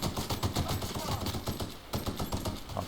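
Rapid automatic gunfire in the shooter The Outer Worlds, a dense and loud unbroken burst of shots over other game sounds, with no talk.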